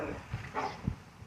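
A dog lets out a couple of short, soft barks, faint and somewhat distant, with brief gaps between them.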